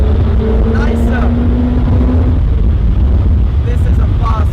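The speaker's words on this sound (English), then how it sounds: "This is a fast car. This is a serious car." An Alfa Romeo 4C Spider sports car engine roars steadily up close, a loud continuous drone with a rising whine partway through, and someone talks over it.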